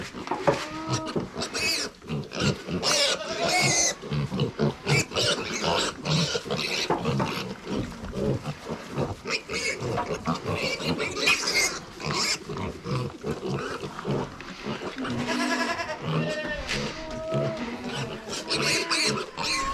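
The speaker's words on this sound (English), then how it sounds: "Where's your pans at, pigs?" Pigs on a ranch at feeding time, loud close grunts, squeals and oinks from several animals jostling continuously, with occasional rustling.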